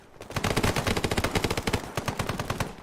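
Rapid bursts of automatic machine gun fire from a Spec Ops military shooter video game, loud and close, with rattling shots in quick rhythmic volleys throughout and no talk.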